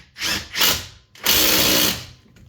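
Power tool driving caliper bracket bolts on a Subaru during a brake job: two short whirring bursts, then a longer sustained run, close and loud.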